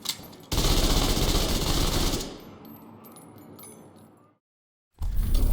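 SMG fire from The Division 2 shooter: a loud rapid burst of automatic shots for about two seconds, then trailing echo and clinking, a brief silence, and another burst starting at the end.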